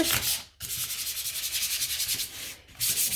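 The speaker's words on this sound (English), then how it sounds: "So I'm going to use my sandpaper." Rhythmic scratchy rubbing of sandpaper over a surface, brisk back-and-forth strokes up close, with two brief pauses between bursts.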